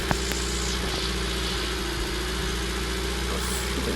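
A pickup truck engine idles steadily nearby, a continuous low rumble with a faint mechanical hum and slight vibration throughout, with no voices.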